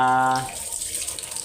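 A brief humming tone cuts off, then water splashes and pours steadily over a rescued cat being bathed, close by.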